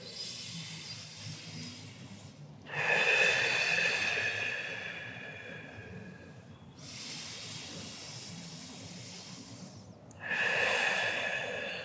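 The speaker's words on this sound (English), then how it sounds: "let's take 2 deep breaths together" Two slow, deep breaths taken during a seated stretching exercise, each a long airy inhale and exhale heard up close, separated by quieter pauses and with no talking over them.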